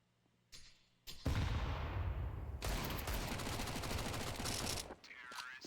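Sustained rapid automatic fire from a MAC-10 submachine gun during a competitive Counter-Strike match, loud dense bursts running almost continuously after a brief opening shot and fading out at the end.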